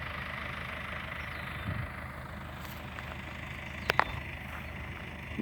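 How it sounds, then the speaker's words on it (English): A farm tractor pulling a hay baler drives away across a hayfield, its low engine hum steady and moderately distant, with a few brief clanks near the end and no talking. "As you can see, his tractor and baler, and he's heading out."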